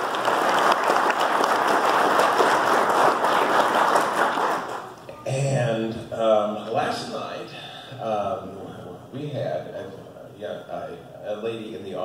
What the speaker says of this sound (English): please give Kim Trujillo a round of applause.